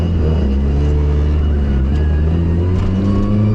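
A turbocharged Roadster engine pulls hard under high boost in third gear, a loud, steady droning roar that climbs slightly in pitch with no pauses and no voices.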